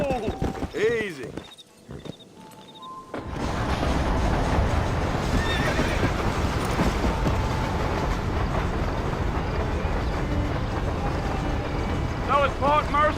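A horse whinnies and snorts in the Western video game Red Dead Redemption, followed by a dense run of clip-clopping hooves and rolling wagon noise, with another whinny near the end; someone speaks briefly at the start.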